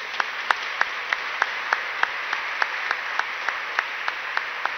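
A church congregation at a First Communion service claps together in a steady, evenly spaced rhythm, moderately loud and unbroken, with no voices over it.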